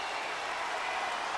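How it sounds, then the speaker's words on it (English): A wrestling arena crowd on its feet cheering, a dense, steady roar of voices and clapping filling the space throughout. "The fans want him in. They're standing. They're cheering."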